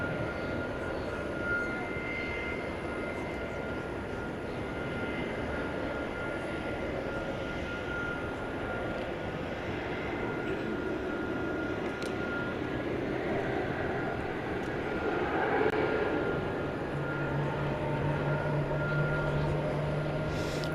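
A Frontier airliner takes off from DFW Airport at night, its jet engines a steady distant roar that swells slightly toward the end, with no talk over it.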